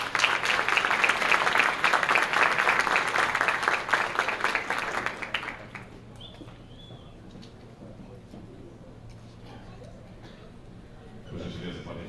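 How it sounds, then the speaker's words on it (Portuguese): A graduation ceremony crowd applauds with loud, dense clapping for about five seconds, then it fades to scattered claps and quiet room murmur. "Mais uma salva de palmas, por gentileza."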